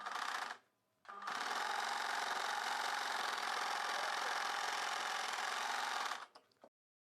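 A sewing machine stitches a blouse piece in one long steady run of rapid mechanical whirring after a short opening burst and brief pause, then stops.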